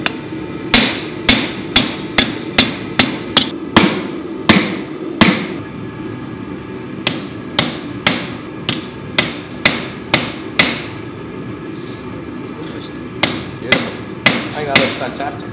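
A blacksmith hammers a bushcraft knife blade on an anvil, ringing metallic strikes in quick rhythmic bursts with brief pauses between groups, loud and close with no talking.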